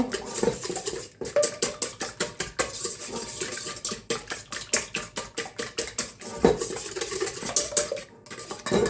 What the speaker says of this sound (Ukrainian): Ось так я збила яйця